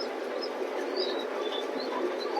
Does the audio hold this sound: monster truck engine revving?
no